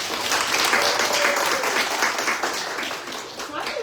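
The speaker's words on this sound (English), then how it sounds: "Clap if you feel the same way." Audience applause at a talk given by a congresswoman, a dense, steady wash of clapping that fills the whole stretch at fairly high volume.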